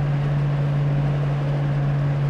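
Steady low engine drone with a constant exhaust hum, smooth and unbroken, heard from inside a moving 1973 Dodge Challenger with no talking.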